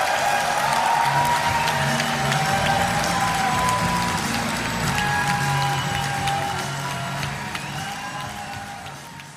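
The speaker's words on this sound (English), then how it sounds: "We have shortened the applause." Conference audience at an SNP party conference applauding a keynote speech, sustained dense clapping and cheering from a large hall crowd, steady and loud, easing slightly toward the end.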